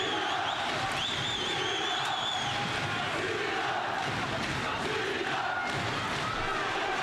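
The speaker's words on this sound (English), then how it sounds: "this Hamburg crowd thoroughly behind Sam. You can hear them shouting his name." A boxing crowd in Hamburg chants and shouts a boxer's name in a steady, roaring wash of voices. It is continuous and fairly distant, with a few whistles riding over the rumble.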